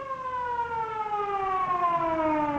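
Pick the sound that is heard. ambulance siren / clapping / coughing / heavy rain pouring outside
ambulance siren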